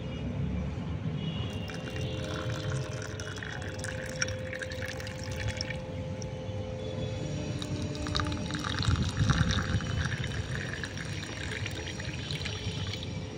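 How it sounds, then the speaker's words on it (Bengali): Water is poured into a glass for mango panna sherbet, giving a soft, close trickle with small drips and splashes, quiet throughout, with a few brighter plinks partway through and no talk. "এইবার আমি এখানে দিয়ে দেব জল।"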